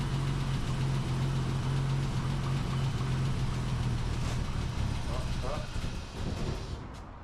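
BMW E24 engine running steadily just after a fuel pump fix, a continuous close idle hum that fades slightly near the end.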